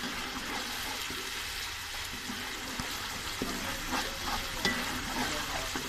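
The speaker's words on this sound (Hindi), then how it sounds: "अब हम इसमें लहसुन का पेस्ट ऐड कर देंगे। इसको भी हमने 1-2 मिनट भूनना है ताकि इसका कच्चापन लहसुन का खत्म हो जाए।" Garlic paste frying in a pan for kadhi pakora, giving a steady continuous sizzle with light stirring scrapes and small clinks throughout, no talking.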